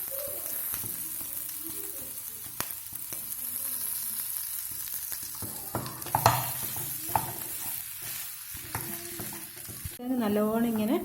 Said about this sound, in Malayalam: നല്ലോണം ഇങ്ങനെ ഉടച്ചു കൊടുക്കണം. കട്ടയൊന്നും ഉണ്ടാകാൻ പാടില്ല.